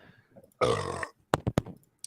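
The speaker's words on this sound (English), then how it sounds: "Good burp." A person lets out one loud, close burp lasting about half a second, followed by a few short grunting or throat sounds in a quiet room.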